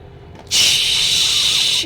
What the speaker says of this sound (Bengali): এবার একটা একটা করে ভাজো।